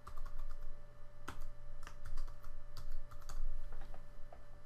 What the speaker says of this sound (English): in here we'll create a logical folder for our music service, and I'm just going to call it Music Kevin.